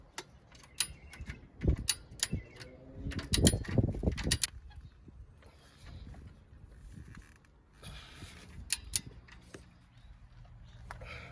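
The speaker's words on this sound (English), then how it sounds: "I'm going to torque it up to spec" Torque wrench tightening rear strut bolts on a 2007–2011 Toyota Camry, a series of close ratcheting clicks and creaks in bursts followed by quieter metallic ticks, with no one speaking.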